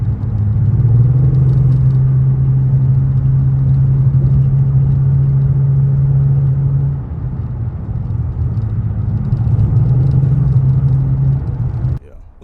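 A V6 Dodge Challenger with a misfire idles loudly and close, its low steady engine drone dipping briefly midway before cutting off near the end.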